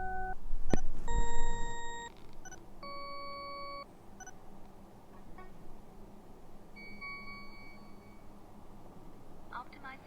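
Several steady electronic beeps and sustained tones from Sony WH-1000XM3 noise-cancelling headphones running their optimizer, sounding one after another at different pitches, fairly faint over a low background hum.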